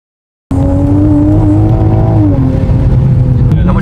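A 500bhp Toyota Supra with carbon bodywork accelerates hard, its loud engine note climbing and dipping steadily for several seconds after a sudden start, close and dominant, with voices faintly underneath.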